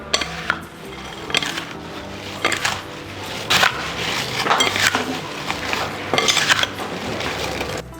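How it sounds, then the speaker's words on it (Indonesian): Spoon stirring apple filling with raisins in a pan, repeated scraping and clinking strokes in an uneven rhythm, close and moderately loud with no voices. "kita aduk."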